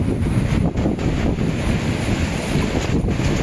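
Waves surge and wash continuously on a beach in Carcar City, Cebu, a broad steady roar mixed with heavy wind buffeting the microphone, with no voices.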